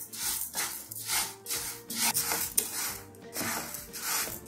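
Urad dal being dry-roasted and stirred in a hot pan over medium flame, giving a steady dry rustling and scraping that repeats in rhythmic strokes, close and fairly clear.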